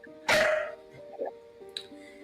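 A puppy barks and yips in a quick burst near the start, followed by a few softer whimpering yelps, with faint talk or room noise underneath.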